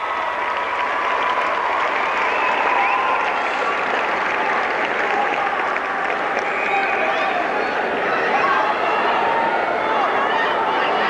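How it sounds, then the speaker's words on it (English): A crowd at a 1988 high school hockey playoff final applauds steadily and loudly for several seconds, a dense wash of clapping with cheering and voices mixed in. "Round of applause."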